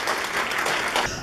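Audience at a CBMC Atlanta chapter ceremony clapping, a dense steady burst of applause filling the short moment before fading near the end.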